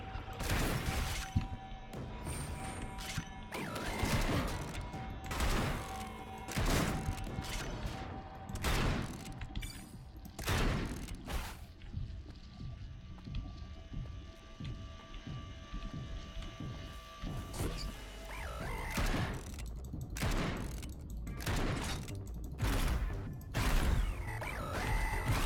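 Turrets in the Bunker Punks game fire in sharp, repeated bursts spaced every second or two, crisp and fairly close over a low mechanical hum.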